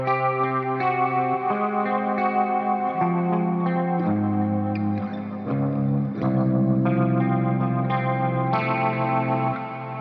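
A distorted electric guitar rhythm tone preset with chorus and echo effects plays sustained chords that shift every second or so, loud and upfront with no voice.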